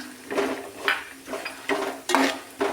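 Raisins are added to cashews in a pan for a Vishu ada pradhaman and stirred while frying: a rhythmic series of close spoon scrapes and clinks against the pan over a light sizzle.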